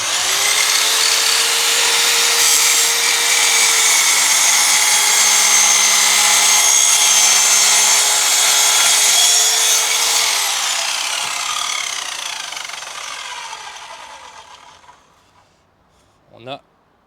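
An Einhell radial saw cuts through wood with a loud, continuous whining buzz lasting about ten seconds before the blade spins down and fades, ending with a short clatter.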